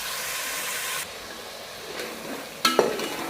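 Chana dal masala being stirred in a pan for a dhaba-style chana dal fry, a steady frying hiss broken by a louder scrape of the spoon near the end.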